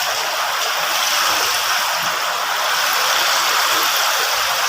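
Water runs steadily into a portable stainless steel sink, a broad continuous hiss and splash with no pauses, close and fairly loud throughout.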